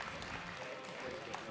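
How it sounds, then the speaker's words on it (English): Faint, distant applause from a conference audience as guests are called on stage: a brief, even wash of clapping with a voice speaking over it. "Round of applause."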